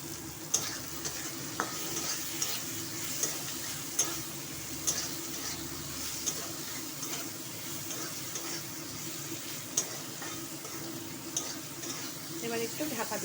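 Boiled, salted ghetkol stalks with turmeric fry in a pan, a continuous soft sizzle broken by regular light scrapes and taps of a stirring spoon, heard up close without speech.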